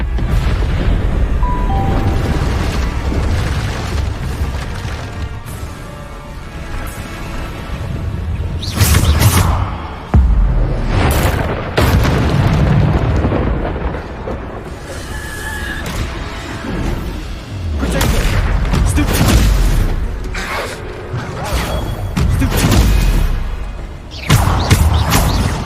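Bombarda spell blasts in the Hogwarts Legacy video game boom repeatedly amid combat, with several heavy thuds and bursts spread irregularly across a loud, busy soundscape of whooshes and impacts.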